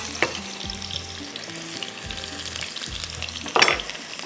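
Onions fry in a pan of hot oil for a rice dish, sizzling steadily up close, with soft scrapes and stirring knocks and a brief louder crackle near the end.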